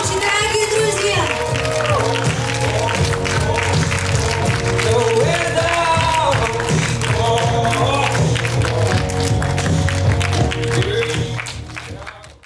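Wedding guests at an outdoor ceremony in Kharkiv applaud and cheer the groom Alexander, a loud, steady wash of clapping with shouts and whoops running for about twelve seconds before fading, with voices mixed in.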